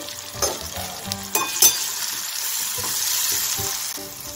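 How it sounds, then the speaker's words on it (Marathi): Soaked sago is tipped into a frying pan with crushed peanuts and red chilli powder for fasting sabudana khichdi, giving a loud close sizzle with a few sharp spoon scrapes and knocks early on, then steady frying, with no voices. "आपण हा भिजवलेला साबुदाणा होता तो यामध्ये आता टाकून घ्यायचा आहे।"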